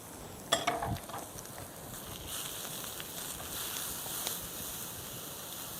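Meat hits a hot pan after onions for stir-frying, giving a faint, steady sizzle with a few scraping stirs near the start, quiet and continuous.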